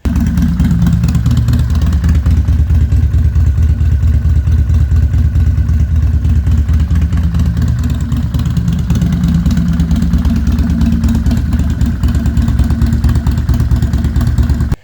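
Harley-Davidson Street Bob with a 128 cubic inch V-twin, CR 485 cam and TBR 2-in-1 exhaust, loud and close, a continuous deep lumpy throb with a steady rapid pulse.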